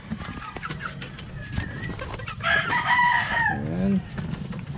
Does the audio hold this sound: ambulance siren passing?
no